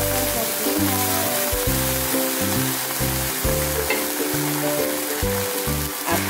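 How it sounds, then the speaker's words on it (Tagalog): Sardines sizzle with sweet potato leaves in a frying pan, a steady loud crackle running throughout with music playing over it. "At syempre, maglilagay na natin ang sardinas."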